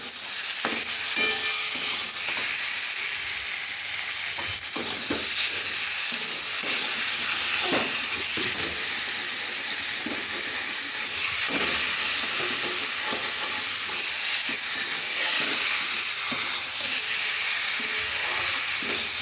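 Fried vegetables being stirred into spices in a pan while making a bata fish curry: a steady, close sizzle and hiss with repeated scraping and clinking of the spoon, continuing unbroken without talk.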